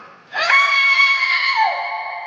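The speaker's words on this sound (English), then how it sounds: "Zoey's heart-wrenching scream tore through the night sky." A woman's loud, heart-wrenching scream after being stabbed in the stomach at night, a single sustained, piercing cry that starts abruptly, holds steady, then bends downward and trails off.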